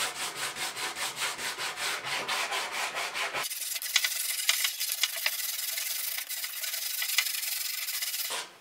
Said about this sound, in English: once my second coat's finished, I'm going to give it another sanding